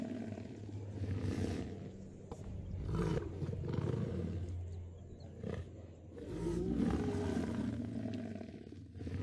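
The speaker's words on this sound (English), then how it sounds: "It is a lion." A lion roars in several long, rumbling bursts that swell and fade over about nine seconds, loud and close with low growling between them.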